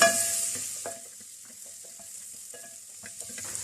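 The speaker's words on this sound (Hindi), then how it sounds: "ये भी इसमें डाल देंगे ताकि ये थोड़ी सी इसमें फ्राई हो जाए लहसुन के साथ" Green onion whites fry with garlic in a pan for chilli garlic pasta, a soft steady sizzle with a few stirring clinks, faint and close with no voices.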